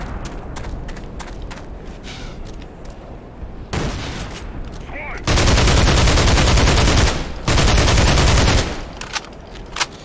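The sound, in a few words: soldiers firing grenade launchers, from video game Black Mesa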